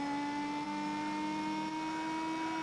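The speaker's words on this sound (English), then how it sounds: "that tunnel sound with this exhaust note sounds divine." A supercharged Toyota Tacoma in Gran Turismo 4 drones through a tunnel, its steady exhaust note holding two strong sustained tones over a dense, echoing roar, loud and continuous with no talking.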